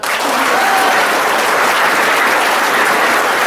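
A school audience claps loudly and steadily for the three girls who came first in a competition, a dense, continuous wash of applause held at full strength throughout.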